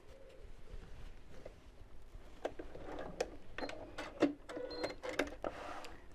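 Sewing machine stitching straps into place, running in short irregular bursts with clicks and pauses, close and moderately quiet, with no talking.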